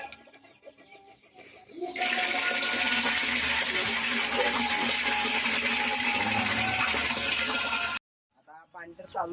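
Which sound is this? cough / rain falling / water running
water running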